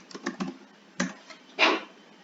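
Scattered keystrokes on a computer keyboard while code is typed, a few quick taps, a short pause, then a louder burst near the end, close and fairly quiet.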